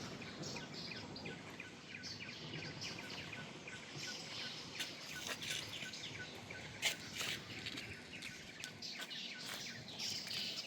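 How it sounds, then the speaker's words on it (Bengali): Birds chirp and tweet along a rural road at Bhutan Ghat, light scattered calls over a soft steady outdoor hiss, fairly faint, with no voices. "তোমরা ঠিক করে একটু শোনো, দেখবে পাখির আওয়াজটা শুনতে পাবে"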